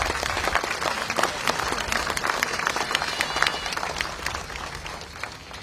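Warm applause rises from the crowd at a memorial event, many hands clapping in a dense, slightly uneven patter that stays strong for several seconds.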